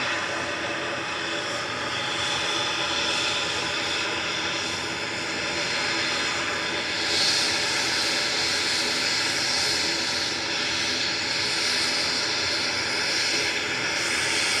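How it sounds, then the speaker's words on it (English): An EasyJet jet airliner touches down at Manchester Airport, its engine roar broad and steady in the distance with a brief swell midway, heard alone without speech. "just touching down in the background is EasyJet from Jersey"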